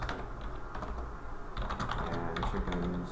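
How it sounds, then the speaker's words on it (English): Steady rapid typing on a computer keyboard, a dense run of close clicks and clacks with a brief pause midway. "Now below here, I can keep typing."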